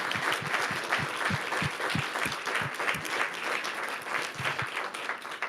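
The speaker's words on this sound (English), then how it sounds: "Another round of applause for all of our students." Students are applauded at a school district legislative meeting. The room claps steadily for several seconds, with distinct hand claps standing out near the microphone over the dense ongoing crowd applause.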